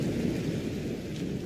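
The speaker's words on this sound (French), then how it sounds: "il a soudain entendu un coup de tonnerre beaucoup plus fort que les autres" A deep thunderclap rumbles through a nighttime storm, a single low, sustained roll with a faint rain-like hiss beneath it and no voices.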